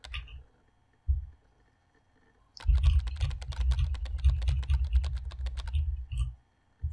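Hard, fast typing pounds a computer keyboard up close as dense clattering keystrokes lasting about three seconds, preceded by a couple of isolated thumps and followed by quiet.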